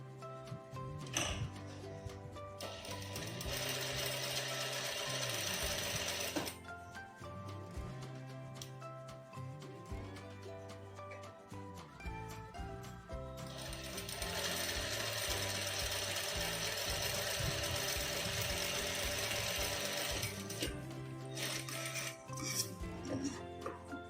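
A sewing machine runs a straight stitch along a folded fabric border, making two long stretches of fast, steady mechanical whirring and clatter with a short pause between them and a few knocks at the start and end.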